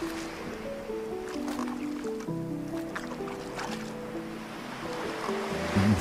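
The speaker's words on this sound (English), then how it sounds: "We're hitting the waves." Ocean waves wash steadily in the surfing section of the video game Lushfoil Photography Sim, a constant watery rush beneath layered synth music tones, with no talking.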